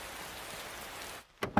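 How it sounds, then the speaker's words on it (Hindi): Steady rain hiss in a Hindi-dubbed anime scene of a sudden downpour, broadband and even for over a second before dropping away, then a couple of brief louder bursts close by. "अचानक से ये बारिश शुरू हो गई"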